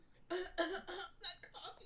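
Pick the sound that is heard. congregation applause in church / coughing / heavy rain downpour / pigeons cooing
coughing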